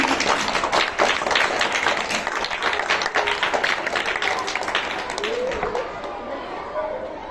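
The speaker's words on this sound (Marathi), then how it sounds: "जोरदार टाळ्या वाजवायच्या आहेत सरांसाठी." An audience at a school election event claps loudly for a senior teacher, dense applause with chatter that gradually thins and fades toward the end.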